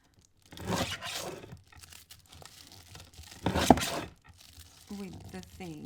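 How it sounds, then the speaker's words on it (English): Folded aluminium foil sliced with a craft blade as a makeshift sharpening trick, giving two or three short crinkling, tearing bursts with quieter rustling between them, close and fairly loud, with no talk. "I've taken a bit of foil and folded it, and I'm gonna just stick this under here, and I'm gonna use it to cut through"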